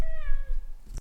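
A house cat lets out a single short, clear meow close by, rising then trailing off within about a second.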